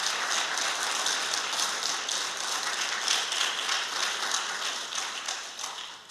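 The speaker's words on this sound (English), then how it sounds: "let's give another round of applause for our candidate" An audience at a 2026 Republican candidate forum applauding a candidate, a dense, sustained wash of clapping that holds steady for several seconds before tapering slightly at the end, with no voices over it.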